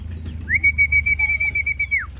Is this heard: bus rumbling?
no